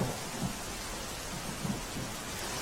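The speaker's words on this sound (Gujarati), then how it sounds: "ધોધમાર વરસાદને લઈને વલસાડના નીચાણવાળા વિસ્તારમાં પાણી ભરાયા." Heavy downpour in Valsad, a dense, steady roar of rain with low rumbles of thunder rolling underneath, continuous and close with no voices.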